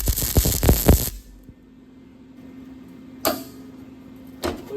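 A new rocker panel is tack welded onto a Grand Wagoneer: one loud, crackling burst lasting about a second, then a steady electrical hum. Two brief, sharp tack bursts follow near the end.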